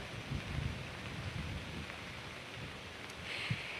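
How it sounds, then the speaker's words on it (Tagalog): Rain falling in Pagudpod, Ilocos Norte, during a typhoon, a steady faint hiss of rainfall with a low rumble of wind or distant thunder and no voices. "sa mga oras nga na ito nakakaranas na ng pag-ulan sa ilang bahagi ng Ilocos Norte"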